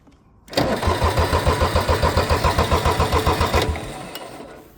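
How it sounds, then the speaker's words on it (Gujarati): A tractor's engine cranks over in cold weather on a farm after a snowy night, the starter turning it in a fast steady rhythm for about three seconds before it stops without catching; loud and close, with no talk. "ટ્રેક્ટરનો સેલ નથી લાગતો ભાઈ."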